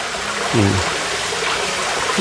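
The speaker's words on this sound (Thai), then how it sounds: "ฟังเสียงน้ำตกไปอย่างนี้นะ" Waterfall at a restaurant pool rushing and splashing in a steady hiss nearby, with a brief low voice over it.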